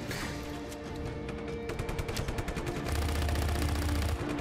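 Rapid bursts of automatic gunfire from the video game Just Cause 3 rattle in quick repeated shots, becoming denser and heavier in the second half alongside a low rumbling layer.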